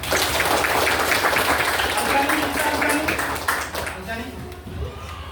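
A school class applauds during a physical education teaching practice lesson, a dense wash of clapping that holds steady for a few seconds and then fades, with voices talking over it.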